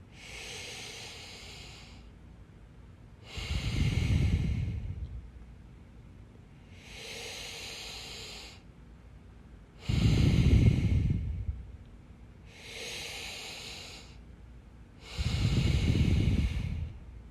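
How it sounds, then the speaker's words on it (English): Slow yoga breathing through the nose, with long inhales and longer exhales alternating in an even rhythm. About three full breath cycles sound close and clear against a quiet background, with no talking. "Long inhales through the nose and even longer exhales through the nose."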